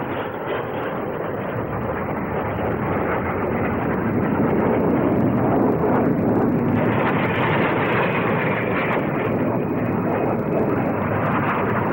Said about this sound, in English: The Jet Provost, also in production for the RAF.